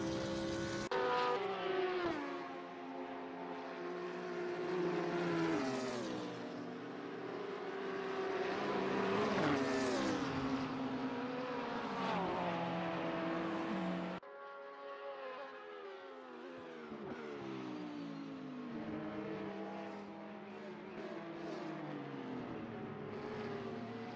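Nissan and BMW race cars in a sim racing game at Spa-Francorchamps sound engine notes that rise and fall through gear shifts and corners, a continuous moderately loud drone with no talking.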